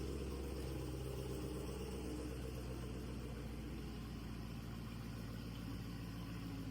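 A Dodge Hellcat Redeye V8 idling with a steady, low rumbling burble that stays even throughout, fairly quiet and without any voices.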